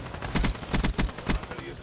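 Submachine gun fire in a first-person shooter video game, fired in several quick close bursts with a steady rapid rhythm, loud and near, with some background noise.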